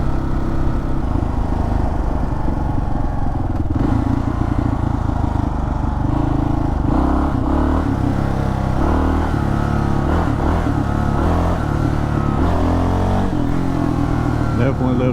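Kawasaki KLR650 motorcycle fitted with a JD tuner accelerating under throttle, a loud close single-cylinder engine drone rising and shifting in pitch through repeated revs over fifteen seconds.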